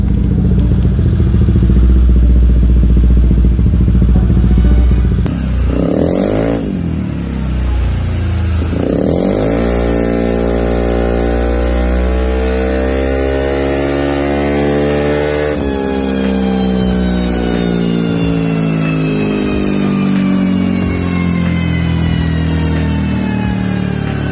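A Honda ADV160 motorcycle engine roars loudly and continuously on a dyno, revving up through rising pitches as it runs hard, with mechanical clatter throughout.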